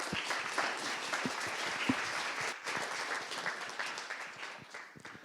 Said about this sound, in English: let's give him a great applaud and welcome